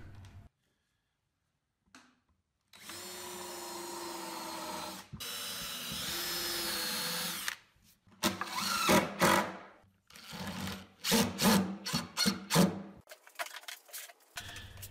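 A cordless drill drives screws into the back of a wooden shelf, starting with one long whirring run, then several short, close bursts with pauses between them.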